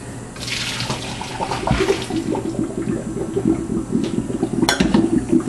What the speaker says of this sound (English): We're going to take our noodles over here to the sink and drain those.